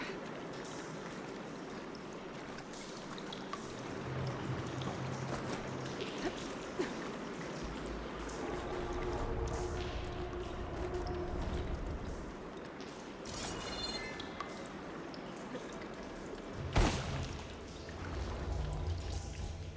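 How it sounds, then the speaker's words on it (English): Water flowing and trickling through pipes and valves in the video game Horizon Forbidden West, a quiet continuous stream with faint mechanical clanks and a sharper knock near the end. "Sounds like the water's switched. Gotta open the valve upstairs. Get that water circulating."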